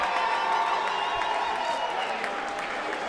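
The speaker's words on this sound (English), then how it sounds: "a round of applause, please, for both of the boxers in this ring." After a women's professional boxing title fight, an arena crowd applauds both boxers in the ring, with sustained clapping and scattered cheers and whoops filling the hall at moderate distance.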